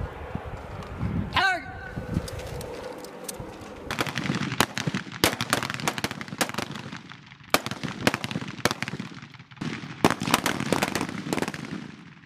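Rifle shots ring out during a U.S. Marine combat marksmanship drill outdoors, a sharp crack followed by a long series of irregular reports, loud and close, with shouted commands in between.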